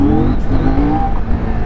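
A CFMOTO Ibex 800 motorcycle engine revving hard for a wheelie, a loud, close, sustained roar with rising and falling pitch over a short burst.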